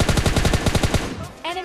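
Rapid automatic gunfire from an M416 or AKM in PUBG Mobile Lite, about ten loud evenly spaced shots in a quick burst, then a short electronic tone as the firing stops.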